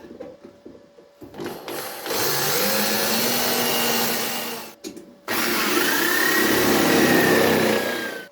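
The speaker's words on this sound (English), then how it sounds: "I will start drilling out some of these spot welds." A power drill drills out spot welds on a Ford Escort Mk1 door pillar, whirring in sustained bursts, pausing briefly between runs, close and fairly loud with a steady grinding hum.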